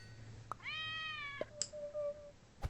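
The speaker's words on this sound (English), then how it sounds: "the Hoopy and the Tabby Cat" A cartoonish cat meows in the auto-battler game Super Auto Pets, one drawn-out rising-and-falling meow among short clicky interface blips and chimes.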